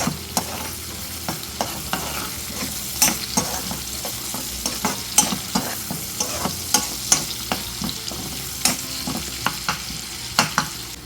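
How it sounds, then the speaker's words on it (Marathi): Finely chopped onion with asafoetida sizzles steadily in hot oil while a spatula scrapes and taps the pan in frequent sharp strokes, close and clear, with no talking. "आता हे सर्व आपण तेलावर परतून घेऊया"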